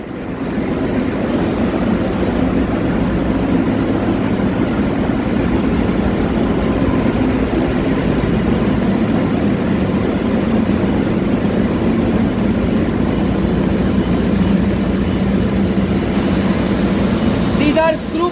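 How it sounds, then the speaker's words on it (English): Fuel oil screw pumps for a ship's main engine and generators run on board, giving a steady, loud machinery drone and hum that holds the same level throughout with no pauses or speech. "This is main engine generator fuel oil supply pump fitted on board ship."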